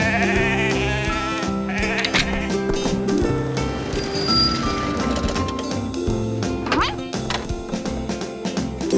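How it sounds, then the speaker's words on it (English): Sheep being moved up to a hillside bleat in a cartoon farm scene, several wavering calls over busy background music and effects, fairly close and mixed with other sounds. "We're moving the sheep up to the hillside."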